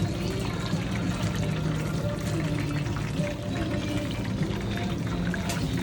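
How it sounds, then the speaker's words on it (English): Battered kushikatsu skewers deep frying in a vat of bubbling oil at an Osaka street food stall, a steady dense sizzle and crackle that runs unbroken at close range with no one talking. "they're getting deep fried into this bubbling oil"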